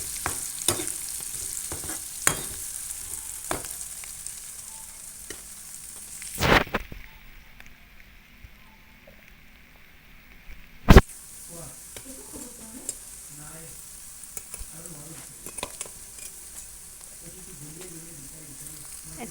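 Onion with ginger-garlic paste and turmeric fries in a pan, a steady close sizzle punctuated by sharp spoon scrapes and stirring knocks, with faint voices in the background.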